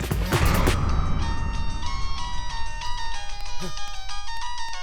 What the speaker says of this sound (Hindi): ए वरुण, तेरा फोन अर्जेंट।